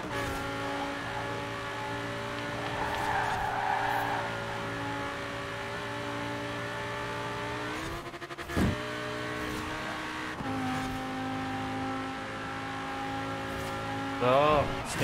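A racing car in Forza Horizon 4 held at full throttle, its engine droning steadily and loud from start to finish, briefly dipping near the middle as if shifting, with a voice talking over it at points.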